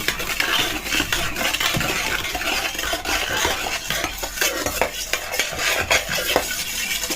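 Sugar and salt are stirred into a dough mixture in a bowl, a continuous close scraping and swishing with light knocks against the bowl, lasting several seconds with no voices.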